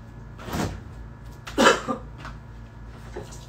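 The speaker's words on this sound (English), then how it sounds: "I hate dry coughs" A person gives a few dry coughs, close by and fairly quiet, two or three separate bursts with the middle one loudest, over a low steady room hum.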